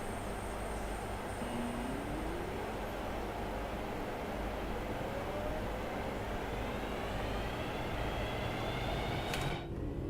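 A train pulls away in Train Sim World 4, with a steady loud rumble of wheels and engine underneath a rising whine, running continuously with no talk.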